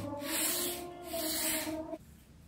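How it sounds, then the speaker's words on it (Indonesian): Sandpaper rubbed along a strip of balsa wood to taper it, two long rasping strokes close up with a tonal whine beneath, then stopping abruptly. "Kemudian amplas miring atau tapering."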